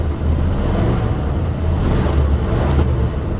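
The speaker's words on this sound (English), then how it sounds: "Hit the gas a little bit." Engine of a vintage RV idling low and steady in winter, with a slight rise as the gas pedal is pressed and a faint sputter, continuous and close without any talk.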